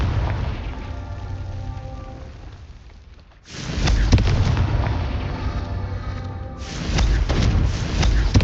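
A Confringo explosive curse goes off in Hogwarts Legacy with a heavy booming blast, then a second burst later, each followed by crackling, rumbling debris, loud and close amid continuous game noise.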